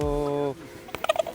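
At a zoo, a bird gives a loud, drawn-out gobbling call lasting about half a second. A brief pause follows, then a quick run of sharper, softer calls or clucks, close and heard without talk.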